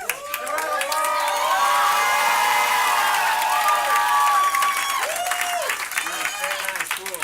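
An improv show audience breaks into applause mixed with cheering and whoops, a loud, sustained crowd roar with several voices shouting over the clapping before it eases slightly near the end.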